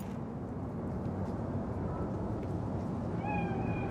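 A cat meows in the Cyberpunk 2077 video game, a few soft mews near the end over a steady low ambient rumble of the game's city.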